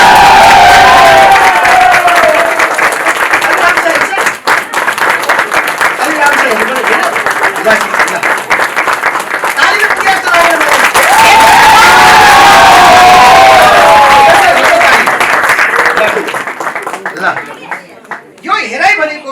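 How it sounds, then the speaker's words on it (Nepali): A crowd at a gathering breaks into loud, sustained applause mixed with cheering and shouts, a dense wash of clapping that swells and then thins out toward the end, with voices raised among it. "ताली"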